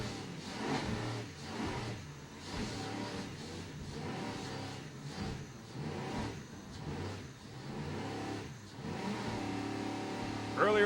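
Offshore racing powerboat engines roaring on board during an APBA race at Key West, a steady loud drone that swells and dips in waves with wind and water rush, voices faintly under it.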